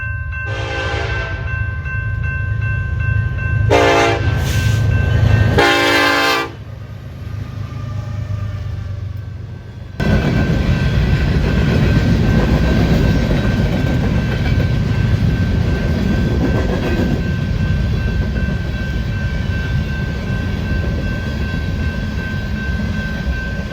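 A loud train horn blasts in several sharp bursts, then an eastbound grain freight train led by an SD70ACe locomotive rumbles and clatters steadily past at close range, at Belle Plaine.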